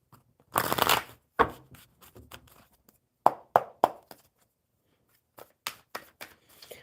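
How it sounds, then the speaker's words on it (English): Playing cards riffled and bridged in a few quick bursts, close by, separated by short pauses and soft handling taps. "one more good shuffle for Mary."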